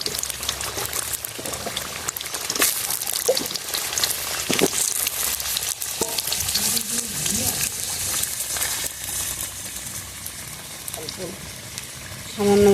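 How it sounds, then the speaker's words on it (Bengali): Potatoes fry in a pan with a soft, continuous sizzle and crackle, fairly quiet, while someone talks over it. "বেশি আলু দিচ্ছি তো, আলুটা ভেজে নিলে ভালো হবে।"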